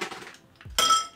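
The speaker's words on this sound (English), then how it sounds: "Now let's put some ice here." Ice cubes drop into a cocktail glass while a Rusty Nail scotch cocktail is being made, giving a single bright clink cluster with a soft thud just before, close and clear after some quiet rustling.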